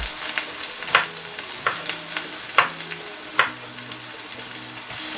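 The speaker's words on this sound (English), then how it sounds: "Frying pan with some oil and tomato." Steady sizzling of tomato frying in hot oil in a frying pan, with occasional louder pops and crackles over a continuous hiss.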